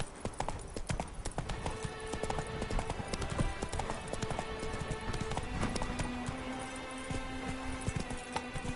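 Roach, a horse in the video game The Witcher 3: Blood and Wine, gallops in a steady, loud clip-clop of hooves, layered over game music and ambience, with a brief whinny-like cry.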